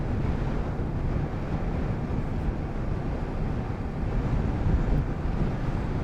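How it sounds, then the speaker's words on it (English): Steady, broad rushing roar of strong, cold wind buffeting the microphone near Gawler, constant and loud throughout with no voices. "It is extremely windy, as per usual."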